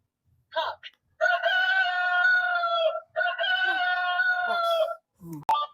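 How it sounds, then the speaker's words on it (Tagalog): Rooster crowing from a toddler's electronic sound book, two long loud electronic crows in succession, preceded and followed by brief clucks and a short voice, close by. "Oh, chicken. Cock. Cock."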